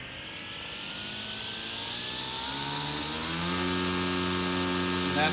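A Harbor Freight Atlas string trimmer motor ramps steadily up to full throttle, its whine climbing in pitch and growing louder before holding at a high, sustained drone, close by.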